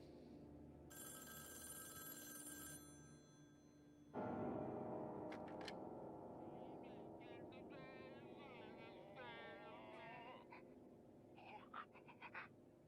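A telephone bell rings in a short burst, then stops, followed by faint, muffled voices and shuffling in a quiet room.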